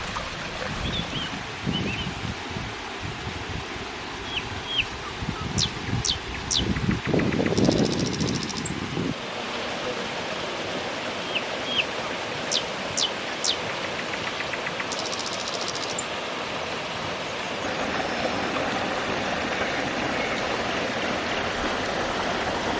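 Continuous rushing water from a small waterfall, steady and close, with a few brief higher chirps and a louder burst partway through.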